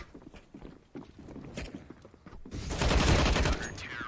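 Gunfire in a Counter-Strike match on the Vertigo map, scattered soft shots and footsteps early, then a loud sustained burst of spraying fire in the second half.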